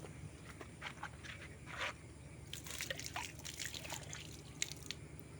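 Water from a water pump filling a container, a quiet trickle with scattered drips and splashes, intermittent and fairly faint against a low background hum.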